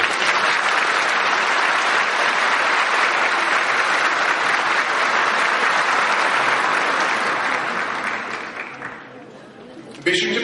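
An audience at a democracy panel applauds as Professor Doctor Doğru is introduced, a dense, loud, sustained round of clapping in a hall that fades out near the end, followed by a brief sharp noise.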